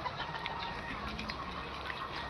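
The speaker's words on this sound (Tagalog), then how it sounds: "Poultry." Chickens cluck at a rural poultry farm, a few short soft clucks rising over a steady, noisy outdoor background with no talking.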